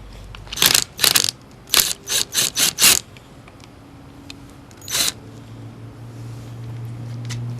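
An impact wrench with a 10mm socket works a bolt on a Honda Trail CT90 motorcycle, firing seven short, loud rattling bursts in quick succession, then one more after a pause.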